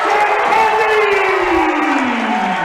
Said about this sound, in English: this crowd is electric here tonight. It is loud in here.